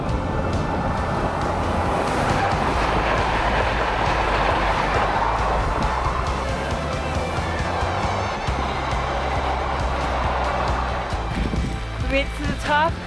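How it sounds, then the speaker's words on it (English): A train rolls past near a Rhine valley route through alpine meadows, a loud continuous rumble and rush that holds steady before easing off, with no voices heard. "More trains for Pierre."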